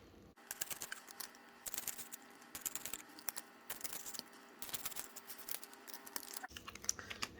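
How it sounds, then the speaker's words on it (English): Sharp scissors snip through an old CD at close range in a quiet room, a series of crisp cracking cuts coming in short irregular bursts. "you do need a very good pair of scissors to be able to kind of get through the CD"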